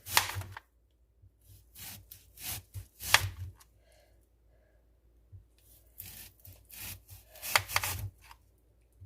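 A knife slicing through a deer neck roast, heard as quiet, separate scraping strokes in short clusters with pauses of near silence between them.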